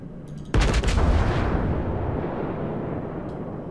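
Heavy warship artillery fires in a World of Warships naval battle: one sudden loud deep boom with a crackling burst, then a long rumbling decay that fades over about three seconds, with no voices.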